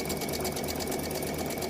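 A sewing machine stitches quilt binding in a fast, even mechanical chatter, close and continuous with no talking.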